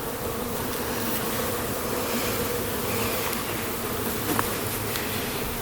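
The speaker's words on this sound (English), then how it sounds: "these are really docile bees." Honeybees buzz in a steady, dense drone around an open hive, a continuous close swarm hum with no talking.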